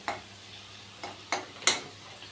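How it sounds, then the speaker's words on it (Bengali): Chili powder and spices frying in a pan while being stirred, a faint continuous sizzle broken by four sharp scrapes of a utensil against the pan, the last one the loudest. "2 চামচ লঙ্কার গুঁড়া দিচ্ছি, নাড়াচাড়া করবো।"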